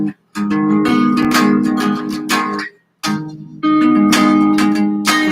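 Strummed guitar chords ring out in sustained bursts, shifting between chord shapes with brief silent gaps between changes.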